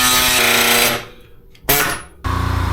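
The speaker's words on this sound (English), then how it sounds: "Oh, we got the compressor running" An air compressor and pneumatic tool run loud in a motorcycle shop, a steady mechanical roar that drops away mid-clip, bursts back briefly, then returns as a rapid, pulsing hammering.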